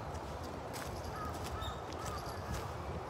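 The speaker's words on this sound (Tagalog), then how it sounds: "Ang daming ibon dito." Many birds call among sakura trees along an outdoor walk, with scattered caws and chirps over steady background noise, no single call standing out.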